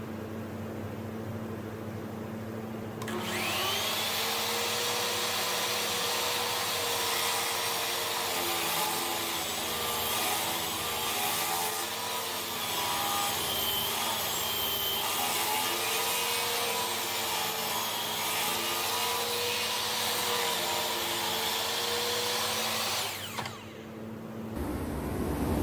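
A miter saw cuts white oak in one long sustained pass, a loud steady whine and grinding rasp lasting about twenty seconds. The motor spins up at the start and drops away at the end, with no talk.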